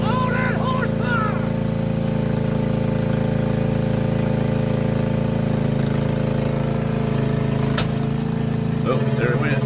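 A zero turn lawnmower rigged up as a small bulldozer runs steadily with a loud, constant engine drone throughout, with voices talking over it near the start and end.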